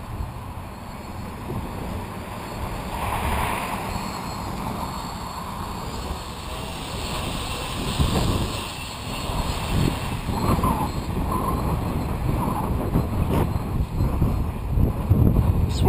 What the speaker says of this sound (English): This wind sucks.